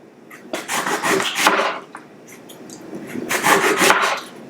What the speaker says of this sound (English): We'll just kind of chop them by hand.